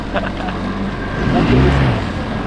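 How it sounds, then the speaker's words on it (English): An ocean-going catamaran's engine runs steadily up close, a low continuous drone that swells slightly midway, with voices talking over it. "to know that one engine works"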